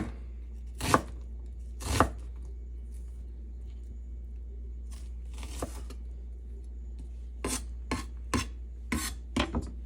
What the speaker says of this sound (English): I'm just gonna chop it up in